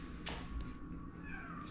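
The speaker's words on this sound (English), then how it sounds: "What are you meowing about?" A cat meows once, briefly and fairly close, in a space where a drift car is being roller painted, over a constant background rumble.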